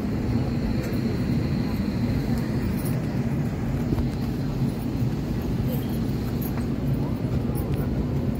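Inside an airliner just landed at Chennai airport on a flight from Dubai, a steady low cabin rumble of engines and airflow runs continuously at an even level, with no pauses.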